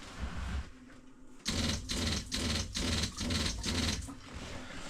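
A caravan water pump cycles on and off in rapid bursts while a tap trickles, giving a stuttering, rhythmic buzz of five or six short pulses, close and fairly loud, with no talk.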